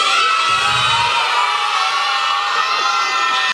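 A crowd of children shouts and cheers together at a kids' stand-up comedy show, a loud sustained roar that holds steady for the whole stretch with no clear talk over it.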